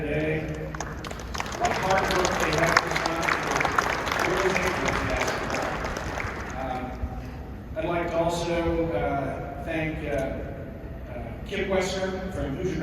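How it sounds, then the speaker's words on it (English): A round of applause from lunch guests at a boys' basketball state finals event, dense clapping that runs for several seconds, then thins as a voice resumes speaking through a microphone. "let's give a round of applause to IHSAA and all the staff that are here today."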